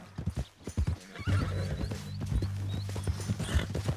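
In the Red Dead Redemption 2 game, a horse's hooves clip-clop in an uneven rhythm, then it lets out a loud, drawn-out whinny that carries on to the end, heard up close.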